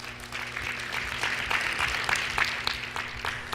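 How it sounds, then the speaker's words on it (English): An audience at a business-class presentation applauds steadily, a moderate, even patter of many hands with some sharper claps, lasting a few seconds under a faint electrical hum. "Give yourselves a round of applause."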